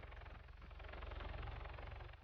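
A helicopter in the video game Arma 3 drones steadily with a dense, throbbing rotor and engine roar, continuous and moderately loud with no voices.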